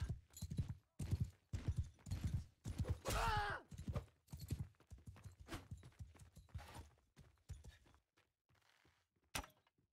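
Horse hooves in the video game Mount & Blade II: Bannerlord thud in an uneven series of clip-clops and knocks, loud at first, then sparser and fainter toward the end.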